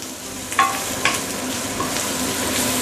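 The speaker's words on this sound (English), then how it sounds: "Put in your roast pork." Cooked roast pork hits a hot pan with garlic for a Chinese leek stir fry, raising a steady, close sizzle with a few sharp clacks of the utensil against the pan.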